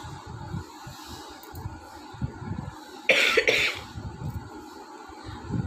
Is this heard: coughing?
yes